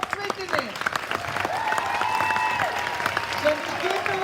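An audience at an annual school celebration claps for a band of music school teachers and students, the dense clapping running throughout, mixed with voices and some tonal music or sounds above it.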